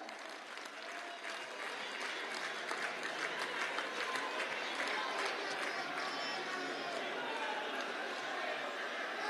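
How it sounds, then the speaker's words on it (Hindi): Sustained applause from a large crowd at a political rally in Dwarka, Delhi, steady and dense clapping that holds at an even level throughout. "जोरदार तालियों के साथ स्वागत।"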